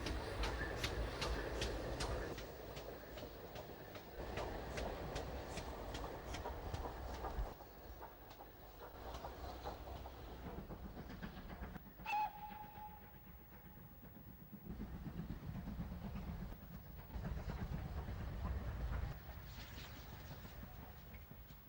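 A Hall class steam locomotive reverses over newly laid track near the Waterloo main line, a moderate rumble with rhythmic clickety-clack of wheels over rail joints and a brief metallic squeal partway through, no voices.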